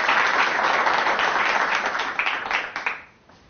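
Studio audience applause greets a guest walking onto the stage of a televised talk program, a dense steady clapping that holds strong and then tapers off near the end.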